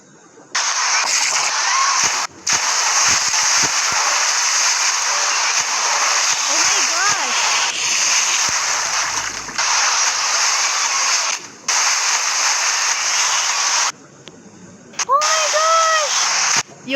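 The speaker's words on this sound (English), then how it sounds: "Yo guys, I'm swimming." Rushing, splashing water while swimming in a Roblox waterpark game, loud and continuous with a few brief breaks, and short tonal game sounds near the end.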